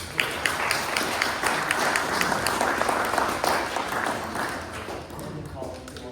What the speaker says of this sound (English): Give her hands around with applause today.